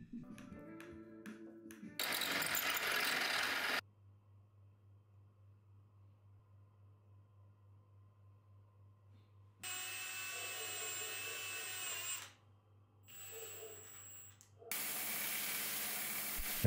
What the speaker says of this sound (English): Holes for the bridge and bridge ground go in next.